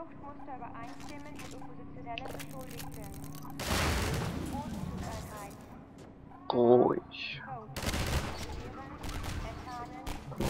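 Bursts of gunfire in the Half-Life 2 video game, two loud clusters of rapid shots with a sharp electronic zap between them, while someone talks over the action.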